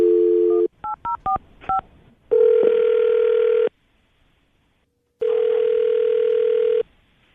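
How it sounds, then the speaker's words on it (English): A steady dial tone, then a quick run of keypad tones being dialed, followed by two long ringback tones with a gap between them. "We're going to call him right now, see if we can get him on the phone"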